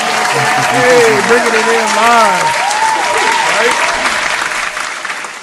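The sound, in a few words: applause sound effect in podcast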